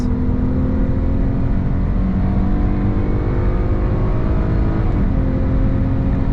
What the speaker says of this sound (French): On va faire une petite accélération encore. On sent au début ça, ça part, ça monte dans les tours.